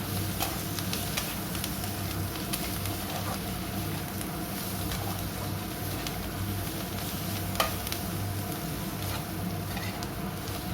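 Chopped coriander and chilli get stirred in a frying pan. There is a continuous sizzle with scraping and stirring, and soft pattering spatters come at an even, close level throughout.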